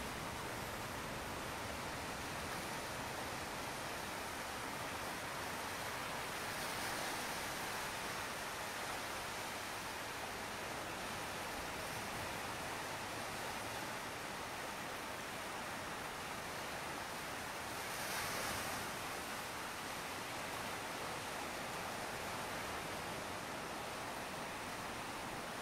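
Ocean waves as a steady broad hiss of surf, continuous and even throughout with faint swells around the middle and later, no voices.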